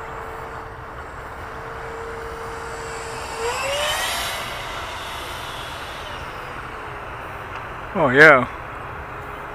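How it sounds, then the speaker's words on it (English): A Freewing F9F Panther RC jet, stock and flying on a 4-cell battery, makes a high speed pass. Its whine rises at mid-distance, swells briefly and fades, and a short spoken remark follows near the end. "I want to get one high speed pass."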